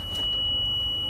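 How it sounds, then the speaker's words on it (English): A Vandalock alarm on a 2006 Thomas C2 conventional school bus with a no-start fault sounds as a single steady, piercing electronic tone that holds unbroken throughout, over a low engine-like rumble. "See the alarm going off? It's a good old Vandalock."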